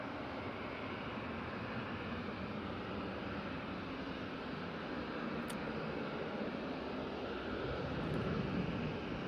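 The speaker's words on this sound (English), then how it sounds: "So that Ryanair was 737-800 and it was off to Malta." Ryanair Boeing 737-800 jet departing Manchester Airport bound for Malta, a broad steady roar of engine noise at a distance, faint and continuous throughout.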